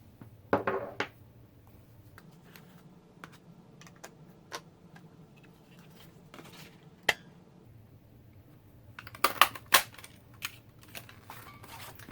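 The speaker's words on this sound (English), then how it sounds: "Notice it punches out a stem and a leaf." A handheld paper punch cutting a stem-and-leaf shape from cardstock, heard as a couple of firm clustered clicks and crunches at the start and again near the end, with faint scattered ticks between in a quiet room.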